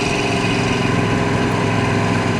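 1971 Chevrolet El Camino with a 350 V8 and automatic transmission, cruising in high gear: a steady, unbroken engine drone with faint road noise, close and fairly loud, with no talking.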